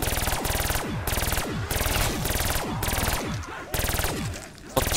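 A light machine gun in the Black Ops 3 video game fires in repeated short bursts, each a rapid loud clatter followed by a brief pause, close and dominant throughout.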